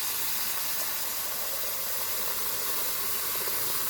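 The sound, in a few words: honey mustard chicken breast sizzling in pan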